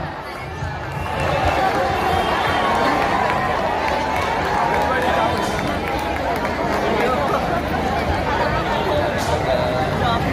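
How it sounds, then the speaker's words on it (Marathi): Dense crowd at a night Ambedkar Jayanti gathering, a thick continuous babble of many voices, loud and close, after a brief quieter start. "किती गर्दी आहे"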